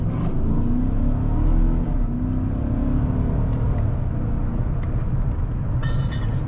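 A 2016 GMC Sierra Crew Cab Z71 with a 5.3-litre V8 accelerates from a stop at about three-quarter throttle, giving a steady, heavy low rumble heard from inside the cab, fairly loud and continuous.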